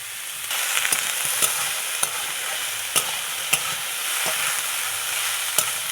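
Chopped potato and carrot sizzle steadily in a hot pan, with occasional sharp scrapes and clicks of stirring breaking through the continuous hiss.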